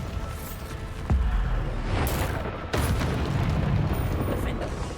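A Bombarda spell explodes in the Hogwarts Legacy video game with a deep, heavy boom, followed by a second blast and crackling rumble amid combat effects.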